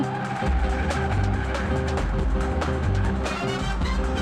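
A car in a South Indian action film races hard with the engine roaring loud and close, tires squealing and skidding across the whole stretch without pause.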